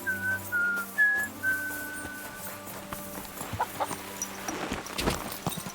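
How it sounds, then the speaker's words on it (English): Sustained tonal whistling in the Kingdom Come: Deliverance II video game, several long held notes near the start, followed by clucking chickens and clattering farmyard sounds. "Stop that whistling!"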